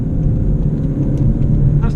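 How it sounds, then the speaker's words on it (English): A VW Golf GTI TCR engine drones and revs at a steady low pitch while driving, with constant road rumble and talk over it throughout. "You can hear the revs once again."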